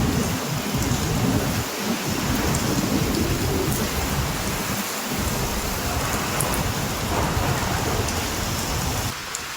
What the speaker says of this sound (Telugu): తెలంగాణలోని పలు జిల్లాల్లో భారీ వర్షాలు కురిశాయి.